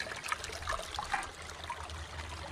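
Water trickles steadily from a small garden pond waterfall, a soft continuous splashing and babbling heard quietly and fairly close with no voices.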